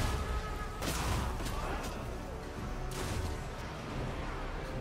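Reaper bolt throwers fire in a Total War: Warhammer 2 battle between Dark Elves and High Elves. Two sharp cracks, about two seconds apart, cut through a dense, rumbling battle din.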